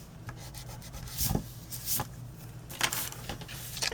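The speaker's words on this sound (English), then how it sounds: "I'm going to just take my eraser and get rid of my line." A pencil eraser rubs out a line on paper in short scratchy bursts, close and fairly quiet, with a few brisk strokes repeating over a few seconds.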